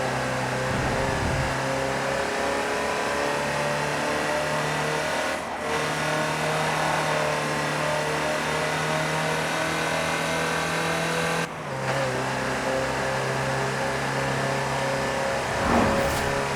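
A Land Rover Type 3 engine drones steadily while driving in the racing game Forza Horizon 4, a continuous hum with gear-shift dips, tire noise and faint game sounds.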